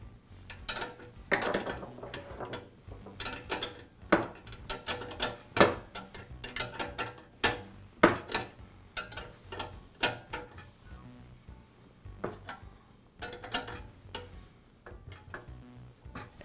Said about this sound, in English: Now I'll install the brass nut that secures the valve to the bracket.